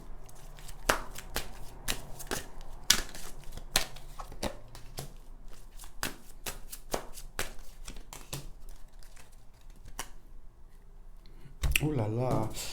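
Tarot cards being shuffled by hand in a series of crisp, rapid riffling snaps and taps, close and fairly loud, with a brief spoken moment near the end.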